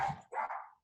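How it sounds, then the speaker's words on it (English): Farm dogs bark in a quick double burst, two short clear barks lasting under a second, fairly close with nothing else audible. "They are all barking."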